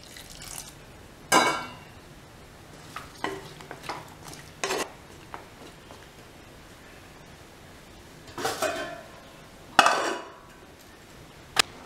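Water poured into a pot of simmering tubers and pumpkin for a South Indian kootu: a few short splashy bursts with clinks from the pot, separated by quiet kitchen background and no talking.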